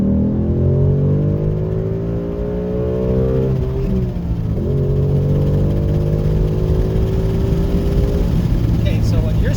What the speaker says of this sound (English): go wide open throttle